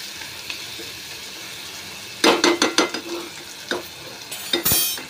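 Chillies are stirred into a bottle gourd curry in a pan, with a run of sharp spoon scrapes and clinks against the pan over a soft sizzle, close and fairly loud.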